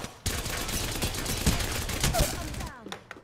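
Sustained rapid gunfire in the battle royale video game Apex Legends, a dense rattling burst of shots lasting a few seconds before cutting off, loud and close, with voices faintly underneath.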